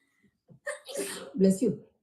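A single sneeze, close and fairly loud, with a short breathy build-up before the burst.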